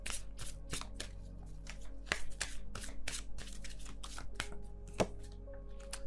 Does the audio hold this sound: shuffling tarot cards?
yes